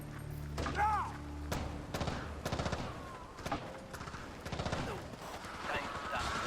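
Rapid bursts of gunfire from the Xbox game Rainbow Six 3, repeated shots cracking in clusters over a steady battle din, with voices calling out between the volleys.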